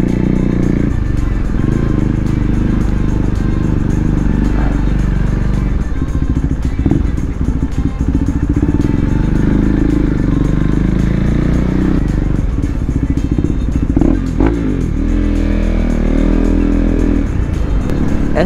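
A KTM 390 Duke single-cylinder motorcycle engine revs and pulls hard while being ridden, loud and close with a constant throbbing drone and wind rush, rising and falling through the gears.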